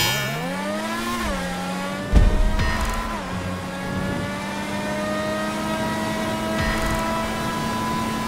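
A custom PR4 race car in GTA Online revs and accelerates through its gears, the engine note climbing steadily with a sharp thump near the start, loud and close with no talk.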